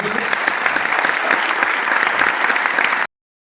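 Loud applause from a crowd, a dense steady clatter of clapping that carries on for about three seconds and then stops abruptly into silence.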